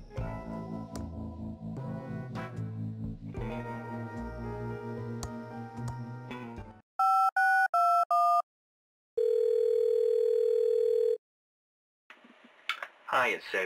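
Telephone tones and a long answering machine beep in the video game Thimbleweed Park: a run of short electronic tone pulses, then a sustained steady beep alone, following music with speech.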